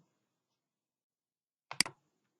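Mouse clicks while building a quote in an Excel spreadsheet: a quick cluster of two or three sharp, close clicks in otherwise near silence.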